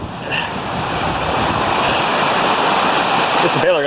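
Heavy rain pours down on a farm, a loud, dense, steady hiss and roar of falling water, with a voice briefly heard near the end.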